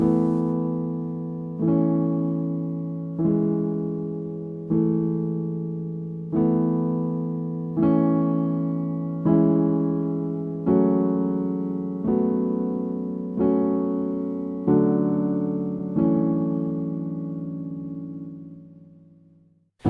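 Piano chords struck one after another in a steady rhythm, each ringing full and warm before the next, about a dozen in all with no voices.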